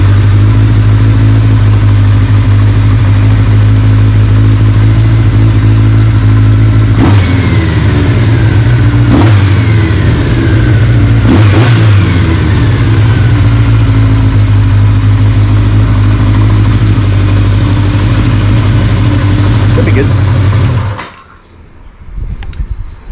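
A Kawasaki KZ motorcycle engine, its carburetor just repaired, runs steadily on choke with a loud, close, even idle and three brief revs partway through. It cuts off abruptly near the end, leaving quiet room noise.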